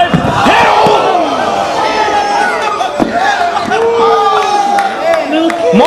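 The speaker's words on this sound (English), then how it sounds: "Markus Riot with a suicide dive" Loud, close crowd noise at a Pro Wrestling WAR show as Markus Riot hits a suicide dive out of the ring: shouting and cheering fill the room, with a few sharp thuds and slaps cutting through, while an announcer talks over it.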